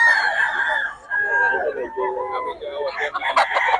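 Roosters crow repeatedly at a busy Bocaue poultry market, loud and nearby, with clucking and a crowd's voices and talk mixed throughout.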